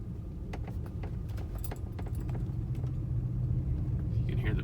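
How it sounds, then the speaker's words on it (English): A BMW 328xi with xDrive creeps down a snowy slope under hill descent control as its brakes engage in irregular clicking, grinding pulses over a steady low rumble from inside the car. "You can hear the brakes engaging."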